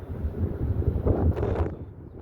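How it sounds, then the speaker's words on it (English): Wind gusts buffet the microphone during an outdoor walk in southwest Calgary, a low, rumbling roar with a brief surging burst near the end. "The wind gusts are picking up"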